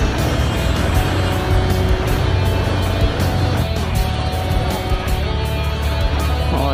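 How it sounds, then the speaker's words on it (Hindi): Road traffic in a daily jam near a college in Pulwama, Kashmir, a loud, dense, continuous engine and tyre rumble from cars close by, with no talk. "और ये फंस चुके हैं बुरे ट्रैफिक जैम में।"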